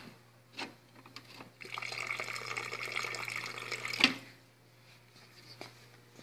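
Water running from the tap of a 7 series coffee machine being drawn off, a soft steady trickle over a low hum with a small clunk near the end.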